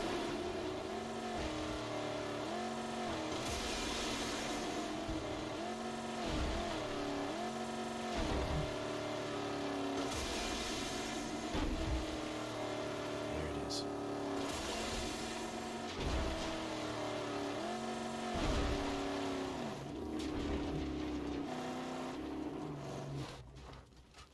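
A V6-powered Archangel car in Mad Max revs and surges repeatedly, the engine pitch rising and falling in loud, close waves as it drives over desert dunes.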